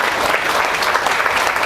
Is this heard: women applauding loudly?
yes